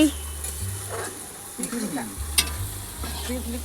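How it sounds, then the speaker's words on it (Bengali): Potatoes frying on an outdoor clay stove at a birthday gathering, a steady sizzle with occasional stirring scrapes, moderately near, with voices murmuring in the background. "আলু ভাজা হচ্ছে"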